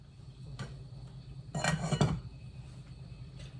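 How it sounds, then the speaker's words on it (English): A metal lid set onto a pot of turkey broth veggie soup on a stove, a few brief clinks and one louder clattering settle in the middle, close and otherwise quiet. "I will put the lid on, put it on low, give it 5 minutes."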